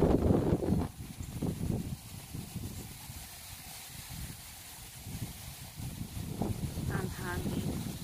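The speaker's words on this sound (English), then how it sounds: "Very windy." Strong wind at a house in Tampa during an evacuation gusts and rushes steadily across the microphone, a loud hiss with low rumble throughout, while people talk over it at the start and end.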